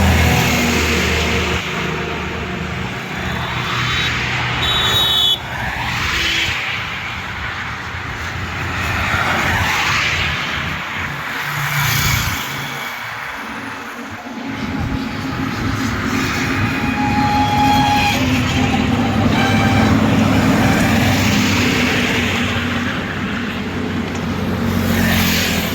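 Large vehicles, including a 16-wheel truck, passing on a national highway, a continuous loud rumbling roar that swells and fades as heavy traffic goes by, with squealing and rattling.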